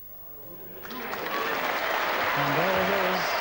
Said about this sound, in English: Just listen to that applause for a really wonderful champion